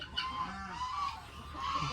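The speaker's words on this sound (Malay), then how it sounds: "angsa dengan ayam dia campur eh, reban dia" Geese honk and chickens cluck together inside a shared coop at a Felda settler's farm, a mix of overlapping calls at moderate distance with a soft background hum.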